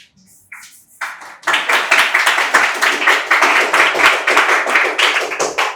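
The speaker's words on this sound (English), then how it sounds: "Hey, you guys like to clap a lot." Students in a lecture hall clap in a loud, rhythmic burst that starts with a few scattered claps and builds into sustained, pulsing group clapping.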